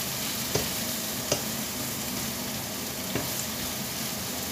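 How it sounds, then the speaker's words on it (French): Mixed vegetables with herbs roasting in a hot pan, a dense continuous sizzle with a few brief utensil taps spaced a second or two apart, close and fairly loud, no voices. "Je vais les laisser encore un petit peu rôtir"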